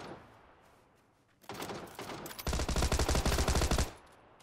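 A Tommy gun in the battle royale game PUBG fires a rapid, sustained automatic burst of roughly a dozen loud, punchy shots, preceded by a brief swell of nearby noise and followed by quiet ambience.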